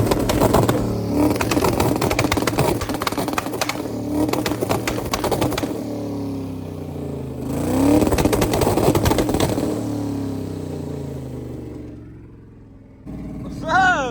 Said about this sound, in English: since the limo can't do a burnout, we can do a little two-step.